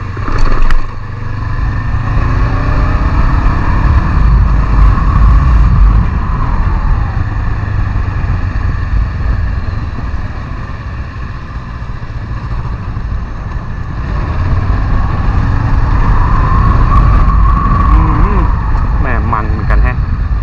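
A Honda CB500X motorcycle drones loudly and continuously on a test ride, its engine rising and falling under heavy wind rush while a rider talks over it.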